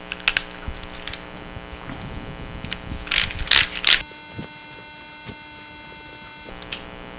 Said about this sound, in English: let me go find a 13mm socket, and we will torque them to 18 foot-pounds